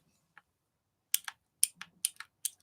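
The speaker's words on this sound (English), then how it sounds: "Listen to that clickiness. Isn't that great?" Clicky mechanical keyboard switches on a Planck keyboard, pressed in a quick irregular run of sharp, close clacks after one lone early tap, with no voices.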